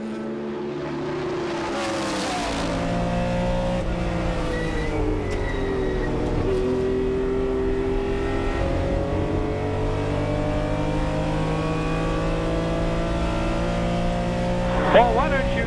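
Vintage race cars, including a 1975 Porsche 3.0 Carrera RSR, accelerate out of a corner and up the start-finish straight at a historic race, engines roaring and shifting through rising, falling pitch, loud and sustained under a commentator's voice.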